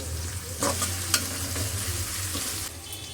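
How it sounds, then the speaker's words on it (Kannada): Thick-sliced onion and curry leaves fry in a pan with a steady close sizzle, broken by a few sharp clicks and stirring scrapes. "ಒಂದು ದಪ್ಪದು ಹಚ್ಚಿಟ್ಕೊಂಡಿರುವ ಈರುಳ್ಳಿ ಹಾಕ್ತಾಯಿದ್ದೀನಿ. ಸೊ ಇದು ಗೋಲ್ಡಿಶ್ ಕಲರ್ ಬರೋವರೆಗೂ ಸ್ವಲ್ಪ ಫ್ರೈ ಮಾಡೋಣ"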